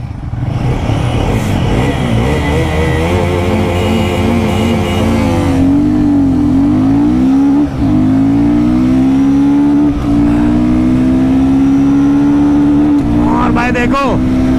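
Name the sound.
Royal Enfield Guerrilla 450 motorcycle accelerating in drag race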